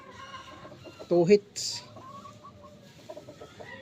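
A gamecock rooster gives a short burst of clucks, close and fairly loud, with someone talking through the clip.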